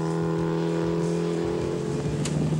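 A 250-horsepower rally car drives with a loud, steady engine drone and harmonic whine, the engine tone shifting slightly as it moves, continuous and close with no talk.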